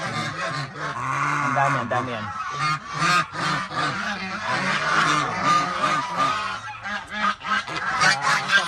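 Flock of many geese honking loudly and continuously on a farm in Zambales, some broody and sitting on eggs, with overlapping calls and a person briefly speaking over them.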